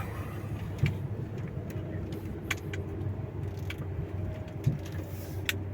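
Low engine rumble of a truck idling and slowly pulling out of a dusty parking lot, a steady droning hum with a few faint clinks and taps on top, no talking.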